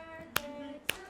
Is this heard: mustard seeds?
no